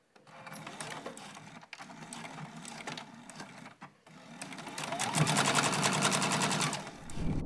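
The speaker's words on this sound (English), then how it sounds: "I am going to do a back stitch at the beginning and the end" A sewing machine runs steadily as it stitches a fabric tube with a back stitch, whirring and rattling up close, briefly stopping and restarting, then running faster and louder toward the end.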